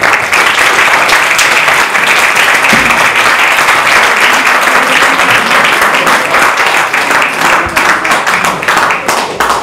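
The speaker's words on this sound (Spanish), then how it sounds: "un fuerte aplauso para el profesor Roy Dale" Loud, dense applause from the audience at a summer-school education debate greets Professor Roy Dale, a sustained roar of many hands clapping close and full for nearly ten seconds.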